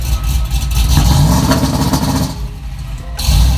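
A loud engine bouncing off the rev limiter, with rapid crackling pops and bangs, the rough idle surging and sputtering close by.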